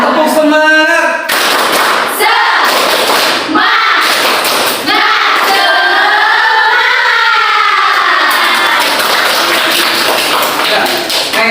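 Students at an Indonesian school ice-breaking session clap loudly in a rhythmic group routine, sharp bursts of claps mixed with shouted chanting voices, close and energetic throughout.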